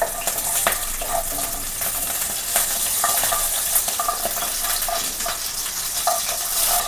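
Mustard seeds crackle and pop in hot oil with a dense sizzle, garlic frying alongside, as scattered sharp spluttering bursts continue steadily close up.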